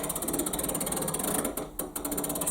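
A windlass winds a clock, its ratchet clicking in a fast, steady, close rhythm with a brief pause midway.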